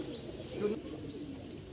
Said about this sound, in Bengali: আরেক জোড়া চিলা কবুতর আছে আমি আপনাদেরকে দেখাই